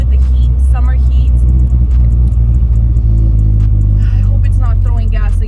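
A Nissan 240SX with a manual gearbox rumbles loudly and steadily from inside the cabin while being driven on a hot summer day, with road noise underneath and someone talking over it.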